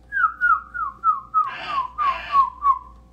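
A person imitates seagulls by whistling into a tube, producing a run of about nine short, descending, gull-like cries at a steady rhythm, close and clear, with two breathy bursts in the middle.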